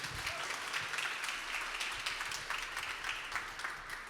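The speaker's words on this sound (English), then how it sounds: "Give a round of applause," An audience at a sport and mental health talk breaks into a steady round of applause, dense clapping filling the room for a few seconds.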